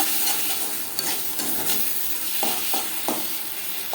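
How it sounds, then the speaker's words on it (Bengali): Poppy seed paste (posto bata) fries in a pan over a medium flame with a steady sizzle, broken by several soft stirring scrapes near the end. "মিডিয়াম ফ্লেমে 2-3 মিনিট নাড়াচাড়া করে দেব।"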